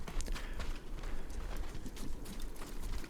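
Horse hooves clip-clop at a steady run in the samurai game Ghost of Tsushima, close and continuous over a low rumbling game soundscape, with faint talk.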